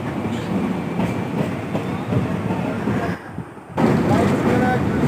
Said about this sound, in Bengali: যাওয়ার সময়ও ট্রেনে করেই গেছিলাম, আর আসার সময়ও ট্রেনে করেই ফিরছি।